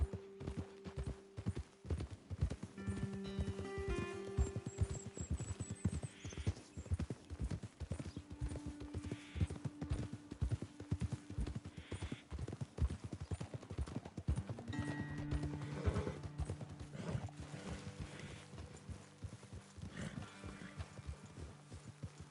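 Several horses walk on a trail in Red Dead Redemption 2, hooves clip-clopping in a steady uneven rhythm, close and clear, with a brief whinny and background game music layered underneath.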